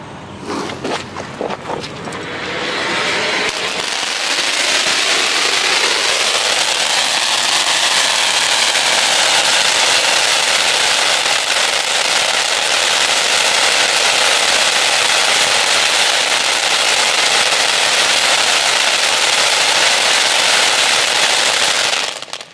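A Sky King 'King Crackling' firecracker goes off nearby, a brief start then a loud, sustained dense crackle that holds steady for about twenty seconds before cutting off.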